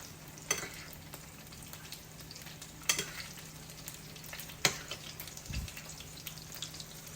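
Green beans fry on high heat in a pan, a soft steady sizzle with a few sharp crackles and pops and light clinks of stirring, fairly faint and close with no talking.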